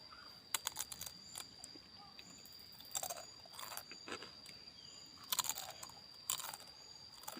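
Crispy fried wontons with meatball dipping sauce are bitten and chewed close to the mic, giving sharp crunches in irregular bursts over a quiet background.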